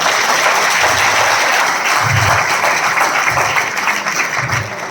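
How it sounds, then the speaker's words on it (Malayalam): A stage audience applauds an elderly grandmother at a film event, the clapping steady, dense and loud throughout, with no talk over it. "മുത്തശ്ശിക്ക് വരുമ്പോൾ നല്ല കൈയടി ഉണ്ട്"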